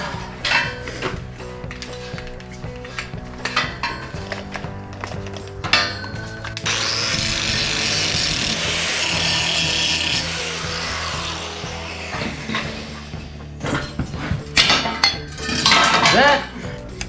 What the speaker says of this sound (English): Grinder, clean them up.